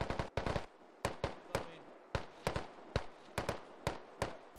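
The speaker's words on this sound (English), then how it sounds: "these guys are shooting at nothing" Gunfire in the Squad military shooter game, a string of sharp distant rifle cracks, some in quick bursts, others single shots spaced irregularly, each with a short echoing tail.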